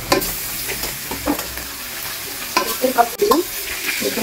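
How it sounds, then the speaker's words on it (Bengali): Pangas fish pieces frying in well-heated oil in a wok, a loud close sizzle with repeated clattering stirs and scrapes of a spatula, no voices. "এর মধ্যে আমি মাছগুলোকে দিয়ে দিচ্ছি। এভাবে আমি মাছগুলোকে হালকা করে ফ্রাই করে নিই।"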